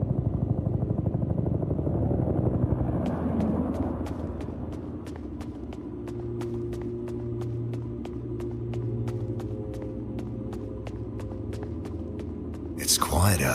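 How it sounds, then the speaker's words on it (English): In the horror game Peridium, an evacuation helicopter approaches with a low, steady rumble and rapid, evenly spaced rotor thumps that persist for several seconds, and a voice talks over the start. "Is that the evac chopper?"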